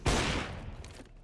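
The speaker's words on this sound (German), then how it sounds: "einfach blind mit AK drauffeuern" A single burst of AK rifle fire in Counter-Strike: Global Offensive, loud and sharp at the start, then trailing off into a softer decaying tail with a few faint later pops.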